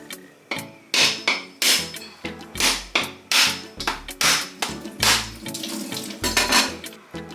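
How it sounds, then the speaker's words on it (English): A dry coconut is struck repeatedly to burst it open and then husked, giving a series of sharp, close cracks and thuds in an irregular rhythm, a dozen or so hard impacts with rustling between them and no speech. "First I will burst the coconut and then I'll husk it."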